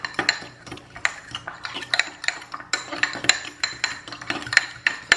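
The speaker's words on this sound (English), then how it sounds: "So we're going to mix that up really, really good" A utensil mixes a sushi cake mixture with oil and mayo in a bowl, making rapid, irregular clinks and scrapes against the dish, close and fairly loud, with no talking.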